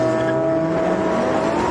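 A Lamborghini Huracán STO launches hard from a standstill without launch control, its engine roaring loud and close in a rising, sustained note with a faint edge of tire noise through the brief burst.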